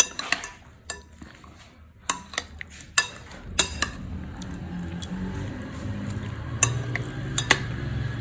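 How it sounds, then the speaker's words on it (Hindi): Prawns for tempura are mixed with a few spoonfuls of vinegar in a bowl, giving intermittent clinks and taps of utensil against dish over a soft wet shuffling. "4 से 5 चम्मच मैंने सिरके के शामिल किए हैं और अब हम इसको मिक्स कर देंगे"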